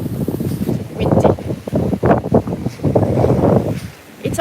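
Gusts of wind buffet the microphone with rumbling roars while a person talks over it outdoors in Japan.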